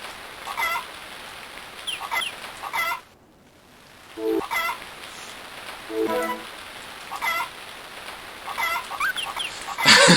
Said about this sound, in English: I hope you guys are enjoying the chicken sounds.